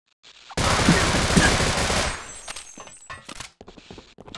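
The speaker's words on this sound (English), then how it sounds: "We have a machine gun now for some reason." Automatic gunfire in Half-Life: Opposing Force, played in Sven Co-op: a loud, dense burst of rapid shots lasting about a second and a half, followed by quieter scattered game noises.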